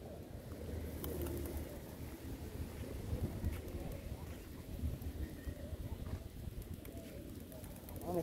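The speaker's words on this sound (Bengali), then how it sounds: "কবুতর গুলো এখানে থাকে।" Many pigeons coo softly in a park in the Maldives, a low, continuous murmur of overlapping calls with light wind noise and occasional voices nearby.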